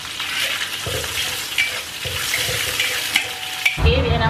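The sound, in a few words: shallots and garlic sautéing in a pan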